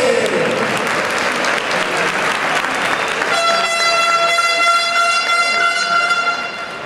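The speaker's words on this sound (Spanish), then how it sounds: "Nuestro aplauso" Loud crowd applause greets an amateur boxer from a Murcia boxing club at an evening boxing event in Almoradí. The clapping is dense and steady, and partway through a sustained, horn-like tone joins over it.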